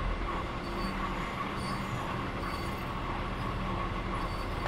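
A train in Train Simulator Classic on the Pegnitztalbahn route rolls along at steady speed, with a continuous rumble and faint wheel hum throughout and no talking.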